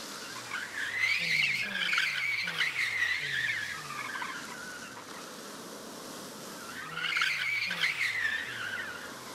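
Tires roll with a steady hiss and break into screechy skids twice, loud bursts over a low engine-like drone, from a video game car audio system.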